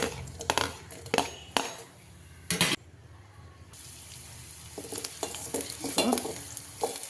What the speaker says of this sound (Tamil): கடாய் சூடாகி எண்ணெய் ஊற்றிட்டேன் பொடியாக நறுக்கினேன் வெங்காயம் போட்டுக்கிறேன்